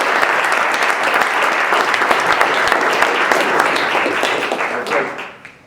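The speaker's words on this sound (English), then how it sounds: "big round of applause." An audience at a sales talk gives a big round of applause, loud, dense and sustained clapping from many people that fades out near the end.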